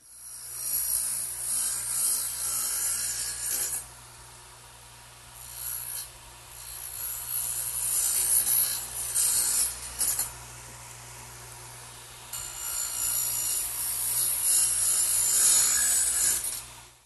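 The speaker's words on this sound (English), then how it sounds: "I'm going to have to swing my radial arm 4 degrees on the other side of 0 to make these cuts" A radial arm saw swung to an angle cuts wood for a workbench build, with several rasping cut passes separated by short quieter gaps, fairly loud and close, no talk.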